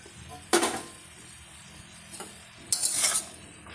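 A spoon stirs paneer and green peas in a pan with two or three brief scraping strokes over a low sizzle, close and distinct, with no speech.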